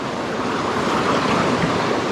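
Water splashing beside a temple, heard as a loud, continuous rushing wash of spray and surf-like roar, close by with no voices.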